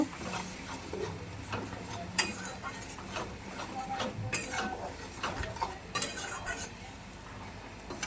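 A spice paste with a splash of water is stir-fried in a pan over raised gas heat, a low sizzle under repeated spatula scrapes and sharp metallic taps at irregular intervals.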